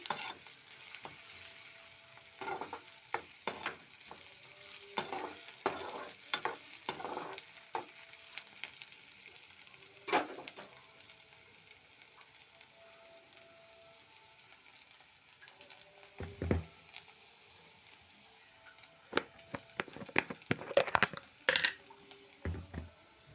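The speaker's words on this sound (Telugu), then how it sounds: "మంచిగా దూరగా వేగే వరకు ఇట్లా కలుపుతూ ట్రై చేయండి" Semiya upma (vermicelli) frying in a pan while being stirred, with a steady soft sizzle and irregular scraping stir strokes, some louder clatters near the end, close and without talk.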